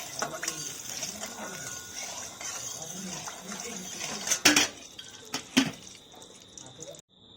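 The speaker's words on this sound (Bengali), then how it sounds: "এবারে চিকেনটা আমি একটা একটা করে ভেজে নিচ্ছি।" Chicken pieces are dropped one by one into salted hot oil in a pan, giving a steady low sizzle with metallic clinks and scraping of utensils. Several sharper knocks come near the end before it stops abruptly.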